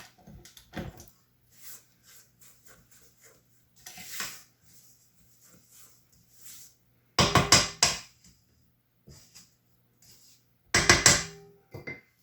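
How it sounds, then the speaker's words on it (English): A spatula stirring flour into vegan sugar cookie dough in a mixer bowl, with sparse soft scrapes and two louder bursts of scraping against the bowl amid quiet pauses. "I'm just going to give it a bit of a stir with my spatula"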